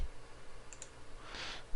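A computer mouse gives two quick, light clicks close by while a spreadsheet task is set up in Excel, with low room noise around them and no voices.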